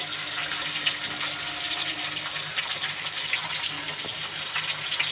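A pot of dal with mango and potato boils steadily, giving a continuous bubbling hiss that stays even and close throughout.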